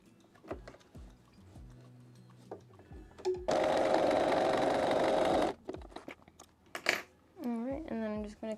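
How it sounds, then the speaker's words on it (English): A sewing machine stitches the lining down on the inside top of linen pants while making a side slash pocket, running as one loud steady burst of about two seconds between spoken remarks and small handling clicks. "now I'm gonna go ahead and sew this down, the lining on the inside on the top"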